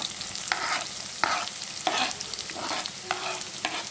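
Chopped onions frying in a pan for a bitter gourd curry, with five or six scraping stirs at a steady rhythm over a constant soft sizzle, close and fairly quiet, no voices.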